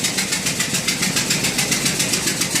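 A Ford 5.4 Triton engine runs with an exhaust leak near the manifold, producing a loud, steady rhythmic ticking puff pulsing rapidly over the close engine hum, with no voices.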